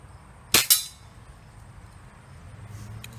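A Daisy Red Ryder BB gun shoots a backyard target: two quick sharp cracks in close succession, then a faint metallic ping a moment later, near and with no talk.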